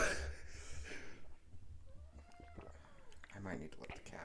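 A house cat meows several times indoors, short rising cries that sit close and fairly quiet alongside some background movement and breathing.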